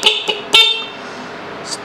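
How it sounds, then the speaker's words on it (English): A hardtail Harley bobber chopper's horn gives three short, close, loud toots in quick succession, followed by quiet ambience. "So you've got the horn in"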